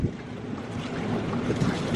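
A violent tornado roars nearby: a loud, continuous rushing wind noise that buffets the microphone and swells slightly toward the end, with no voices over it.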